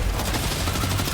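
A machine pistol fires in the video game Death Stranding 2. A loud, unbroken burst of rapid shots fills the whole brief moment.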